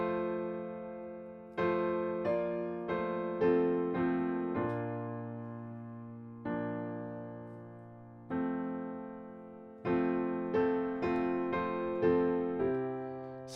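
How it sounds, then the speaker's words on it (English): Piano plays a hymn exactly as written in the hymnal, four-part block chords moving at a steady, moderate pace with some sustained held chords, clear and close with no talking. "let's look at the hymn. The hymn, how it's written in the hymnal."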